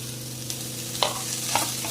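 Cabbage and capsicum stir-fried in a pan for veg Hakka noodles, with a steady low sizzle and a few sharp spatula scrapes and clinks close by, no voices.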